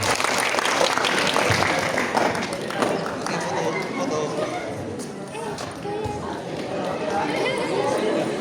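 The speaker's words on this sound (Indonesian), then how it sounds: "Ayo, tepuk tangan buat kita." Indonesian junior high school students applaud together in a school hall, a dense, sustained clapping that stays loud and close through the whole stretch, with chatter mixed into it.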